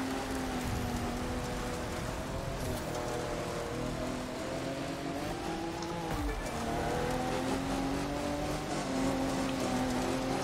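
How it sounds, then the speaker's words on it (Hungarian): Heavy rain pours in the racing video game The Crew 2, a dense, constant hiss of downpour with a car engine droning steadily beneath it throughout. "Szakad az eső, nagyon jó!"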